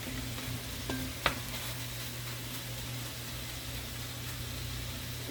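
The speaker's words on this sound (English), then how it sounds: "I'm just going to give it another stir. Let that Worcestershire sauce brown and cook down." Worcestershire sauce browning and cooking down in a pan of chicken sausage gravy gives off a quiet, even sizzle, with one sharp scrape of the spoon as it is stirred.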